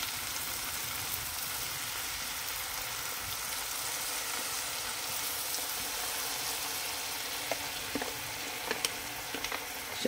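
Carp simmering in coconut milk in a pan gives a steady, faint sizzling bubble throughout, with a few small clinks and pops near the end.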